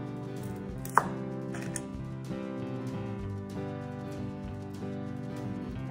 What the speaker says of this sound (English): And then I need to cut this eggplant here. I'm gonna just kind of lop off that top.